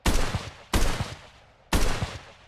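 Three sharp, loud gunshots from the VR shooting game Gunworld VR on a firing range, fired at an even pace roughly a second apart, each with a short ringing tail.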